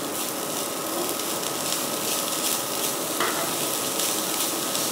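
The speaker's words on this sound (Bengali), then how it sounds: "এটা একটু ভেজে নেব।" Pitha filling of coconut and date-palm jaggery (khejur gur) fries in a pan with a constant loud sizzle and a scraping stirring texture running close and unbroken throughout.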